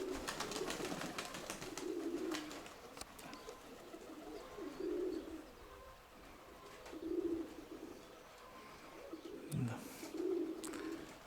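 Soft, low pigeon coos repeat in short bursts several times, fairly close, with some background noise and a brief voice.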